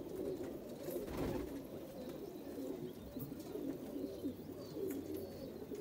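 Kasuri pigeons with the dub marking coo continuously in low, throaty rolling calls, a breeding pair close by, with faint chirps of other birds in the background.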